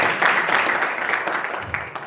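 An audience claps at a community leadership event, a short burst of dense applause that starts strong and gradually thins out over about two seconds.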